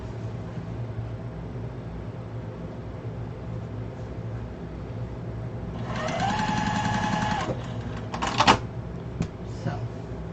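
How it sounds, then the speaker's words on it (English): A sewing machine chain-sews matching quilt blocks for a pillow or wall hanging, running in a steady whir for about two seconds mid-clip, then giving a short burst and a few clicks, with faint background talk throughout. "I'll take these 2 and chain sew these 2 since they're all the same block"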